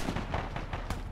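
Rocket missile launch in Arma 3 during a Tanoa jungle campaign battle, a dense rumbling roar with rapid booming bursts, loud and close, amid ongoing combat noise.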